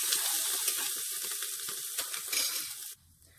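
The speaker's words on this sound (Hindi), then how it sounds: "अब मैं इसमें ग्रेटेड अदरक डाल रही हूँ और इसका कच्चापन दूर होने तक इसे भून लेंगे।" Grated ginger sizzling in hot oil with cumin and asafoetida, a loud, dense frying crackle that runs steadily before cutting off abruptly near the end.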